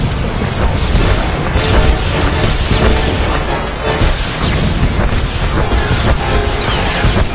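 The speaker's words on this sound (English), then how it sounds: "here the droid is launching another missile barrage" A droid's missile barrage in Star Wars: The Old Republic, heard as a steady, loud wash of overlapping explosions, crashes and impacts through a raid fight, with no clear pauses.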